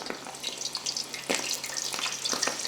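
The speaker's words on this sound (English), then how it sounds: "you see the bubbles are frying the taquitos" Taquitos frying in hot oil: a steady crackling sizzle with small popping bubbles, close up, no talking.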